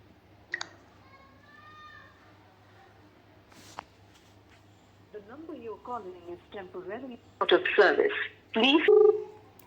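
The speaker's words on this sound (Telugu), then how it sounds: "ఇప్పుడు మళ్ళీ నేనే కాల్ చేస్తా" A phone call is dialed, with a few short keypad tones followed by someone talking, louder bursts of speech and noise near the end.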